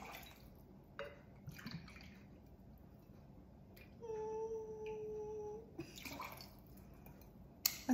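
Tequila pours into a measuring vessel for a tequila toddy, a faint trickling and gurgling stream for a couple of seconds, with quiet handling sounds around it.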